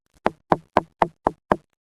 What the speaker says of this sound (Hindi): रानी फुदक चिड़िया का दरवाजा कोई खटखटा रहा था